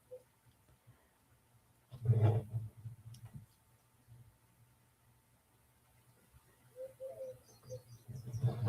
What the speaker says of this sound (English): The little doves are singing to us outside.